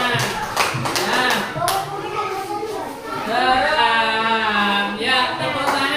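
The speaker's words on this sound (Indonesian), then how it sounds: "Yuk, tepuk tangan." A classroom of children claps hands together in a brief, scattered burst of applause, mixed with a teacher's voice and lively chatter throughout.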